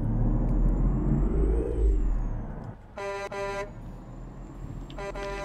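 A truck in a truck-driving game with dirt-road mods gives sharp pneumatic hisses and tooting bursts at each gear change, heard twice over a steady engine drone.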